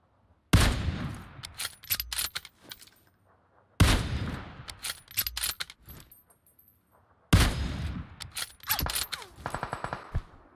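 Three bursts of rapid automatic gunfire crack out in a bridge fight in PUBG Mobile on the Erangel map, each a loud, sharp volley with short gaps of near silence between.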